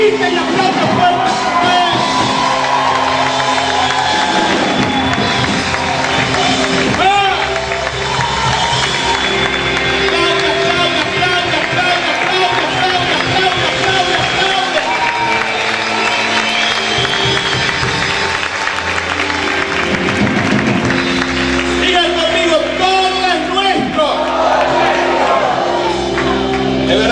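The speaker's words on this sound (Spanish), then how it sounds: "Grita y aplaude fuerte." A church congregation shouts, cheers and claps loudly for nearly half a minute, a continuous roar of many voices and hands filling the room, with whoops and yells rising above it.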